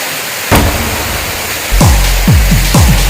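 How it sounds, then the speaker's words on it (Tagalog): Tinago Falls, a waterfall in Canahay, Surallah, South Cotabato, gives a loud, continuous broadband roar up close, with a few dull thumps over the steady rush. "Welcome sa Tinago Falls."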